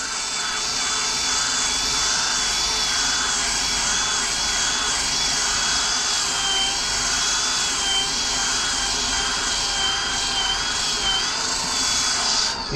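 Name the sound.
sander sanding down fiberglass on a surfboard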